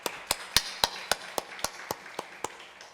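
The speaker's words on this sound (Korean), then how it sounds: "우리 하나님께 영광의 박수 드리겠습니다." Church congregation at a Korean Sunday Easter service clapping together in unison: about a dozen sharp, evenly spaced claps in a steady rhythm, with no talking over them.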